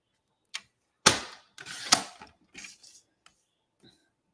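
A handmade paper card trimmed along one side, a few crisp cutting snips and clicks close by, irregular and separated by short silences.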